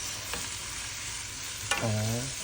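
Egg with onion frying in a pan gives a soft continuous sizzle, interrupted by a faint scrape and a louder stirring clatter of utensil against pan near the end, close and moderately quiet.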